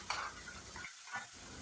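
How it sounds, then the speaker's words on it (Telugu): A spoon stirs salt and turmeric into egg kurma gravy in a pan, with soft, quiet scraping and a faint sizzle over a couple of brief strokes, and no talk. "ఇప్పుడు గ్రేవీకి సరిపడా సాల్ట్, పసుపు వేసేసుకొని చక్కగా కలిపేసుకుందాం."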